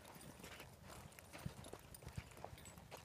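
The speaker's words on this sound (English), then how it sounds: "The horse is really reaching with his hindquarters." Horse hooves clip-clop in a steady rhythm as the horse is ridden around a circle, reaching with its hindquarters; the footfalls are moderately close and distinct over a soft outdoor background.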